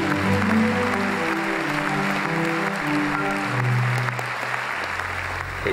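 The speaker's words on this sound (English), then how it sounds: "Please give a round of applause for the one and only person on earth who has ever been cured of HIV, Timothy Brown." Audience applause filling a hall, steady sustained clapping from a large crowd that fades slightly toward the end.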